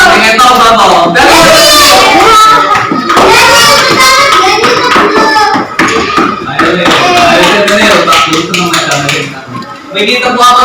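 A group of Indonesian schoolchildren clap hands together in a rhythmic clapping game in a classroom, loud close claps mixed with constant chanting and talk throughout.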